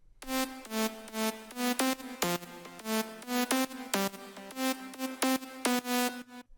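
A bright, buzzy saw-wave synth lead plays a quick, bouncy slap house melody of short staccato notes in a steady rhythm over a low bass line.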